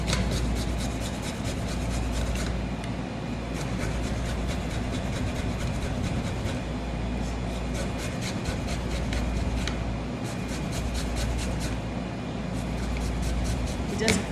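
Fresh turmeric or ginger root rasped on a grater for tea, producing quick rhythmic scraping strokes in steady bursts, fairly quiet and close.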